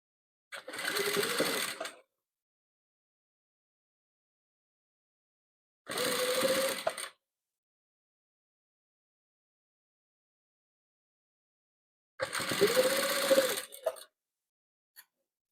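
A sewing machine stitching patchwork fabric pieces together runs in three short bursts of fast mechanical whirring, each lasting one to two seconds, separated by long silent gaps, heard close and alone.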